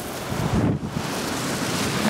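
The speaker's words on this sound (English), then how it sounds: "We've got a really strong easterly wind." Strong easterly wind buffets the microphone on Chesil Beach during autumn shore fishing, a loud continuous roar and rumble with surf mixed in, steady throughout without any talk.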